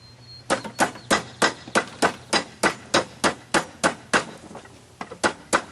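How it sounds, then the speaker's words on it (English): Sharp metallic strikes of a broom hammer driving wire down into broom corn in a steady rhythm, about fourteen blows in quick succession, close and distinct with a brief pause near the end. "We use the broom hammer to hammer the wire down into the corn."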